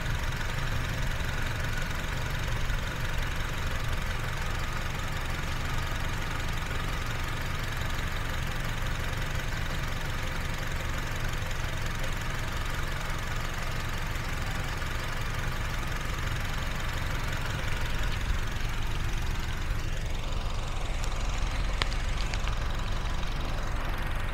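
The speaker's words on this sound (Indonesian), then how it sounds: "Teman-teman juga bisa dengerin suara irama mesinnya, masih teratur banget ya." A 2014 Honda CR-V with a 2.0-litre engine and manual gearbox idles steadily, a continuous low rumble that stays even and close throughout with no speech.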